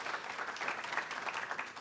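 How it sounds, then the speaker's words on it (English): Applause from an audience at a BMO Harris Bank talk, a steady dense wash of clapping at moderate level with no voices over it. "give them a round of applause"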